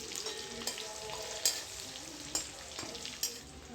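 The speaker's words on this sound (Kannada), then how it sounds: "ಬೆಳ್ಳುಳ್ಳಿ ಸ್ವಲ್ಪ ಫ್ಲೇವರ್ ಬಿಟ್ಕೊಂಬರೋವರೆಗೂ ಇದನ್ನು 1-2 ನಿಮಿಷ ಫ್ರೈ ಮಾಡ್ಕೋಬೇಕು" Garlic fries in a hot pan with a steady close sizzle, broken by a few sharp scraping stirs and clicks against the pan, with no talking.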